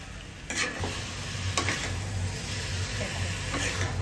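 Chicken stirred in spices in a pan over a low flame for chicken kosha, with a steady sizzle underneath and occasional scraping strokes of the spoon, close and fairly even throughout.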